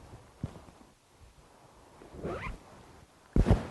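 A YKK two-way main zipper on a Clawgear Milvago jacket is pulled in short bursts: a light tug, a longer rasping run, then a loud quick zip close to the microphone.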